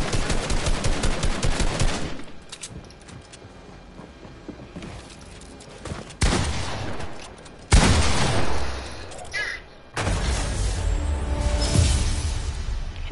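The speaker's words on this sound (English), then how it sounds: "You're shooting at me already?" Video game gunfire in a one-on-one match comes in repeated bursts of rapid automatic shots and louder blasts, with short quieter gaps between volleys.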